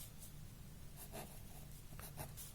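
Faint pen or marker strokes on paper or a board as a matrix multiplication is written out, a few short scratchy bursts over quiet room hiss.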